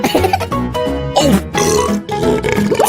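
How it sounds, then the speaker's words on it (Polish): A loud, drawn-out burp after drinking cola, with grunting, pig-like rasping tones, close and prominent over a busy background. "Co za beknięcie!"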